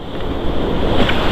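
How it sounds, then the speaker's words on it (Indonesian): Surf washing onto the shore at Batu Bolong beach in Bali, with wind buffeting the microphone, a steady close roar of waves and gusts and no talking. "Inilah pemandangan pantai Batu Bolong teman ya"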